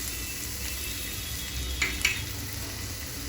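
Garlic, green chili and ginger frying in oil, a steady soft sizzle with a couple of brief sharper crackles or spatters near the end, no voices.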